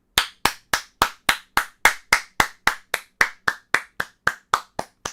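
Hand clapping, about eighteen sharp, loud claps in a steady even rhythm, close and dry, with no talking.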